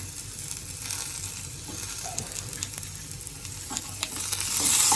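Tomatoes hit onions frying in a pan for methi bhaji, setting off a loud, continuous sizzle with stirring scrapes that swells toward the end.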